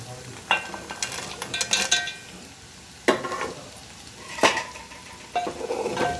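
Okra and peanuts are stir-fried in a pan, with a spatula repeatedly scraping and clinking against the metal over a soft sizzle, giving several distinct bursts of stirring with quieter frying in between.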